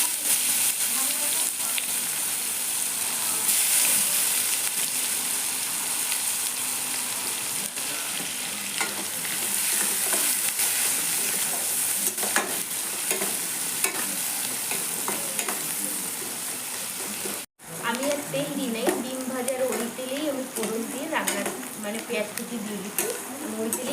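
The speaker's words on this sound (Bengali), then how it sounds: "নুনে দিয়ে দিচ্ছি গোটা জিরা দিয়ে দিচ্ছি পেঁয়াজ" Whole cumin seeds and onion hit hot oil with salt in a pan for an egg and potato curry, giving a steady loud sizzle and stirring throughout, with someone speaking over the frying.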